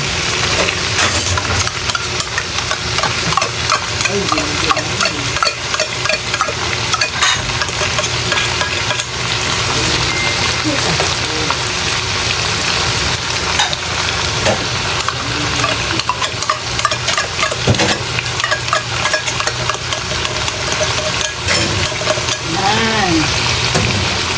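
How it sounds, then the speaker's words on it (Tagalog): Minced pork for mapo tofu frying loudly in a pan, a dense steady sizzle with scraping stir sounds throughout, some faint talk in the background. "lagay na natin yung minced pork"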